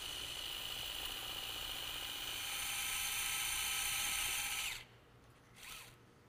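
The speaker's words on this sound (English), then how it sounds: "Next we'll use our secondary VIP reamer, and this will ream until there's a positive stop." Secondary VIP reamer spinning in a dental implant site, a steady high-pitched drill whine that rises slightly, then cuts off abruptly, followed by a brief faint second whir.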